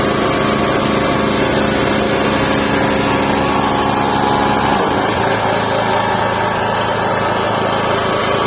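A Bass Polska BP-5040 three-phase generator runs with a loud, steady engine drone that fills the whole stretch, its tone shifting partway through as the load changes, with no talk over it.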